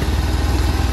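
Motorcycle engine idling or running steadily in a village, a low pulsing throb that stays loud and close throughout the short stretch.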